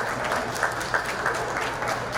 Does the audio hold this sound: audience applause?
yes